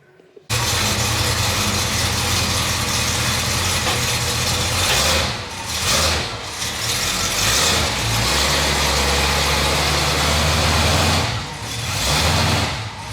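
A Chevy engine starts and then settles into a steady, loud low idle that runs continuously, close by, with a couple of brief dips in level.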